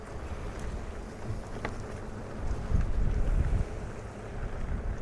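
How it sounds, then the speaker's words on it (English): Wind on the coast at Wilder Ranch State Park in Santa Cruz, California, a steady rushing buffet against the microphone during an e-bike ride, swelling louder midway. "The wind's not that bad out here."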